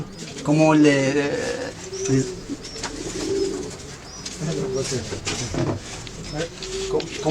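Moroccan racing pigeons cooing in a loft, with soft repeated coos and some wing flutters close by while people talk over them.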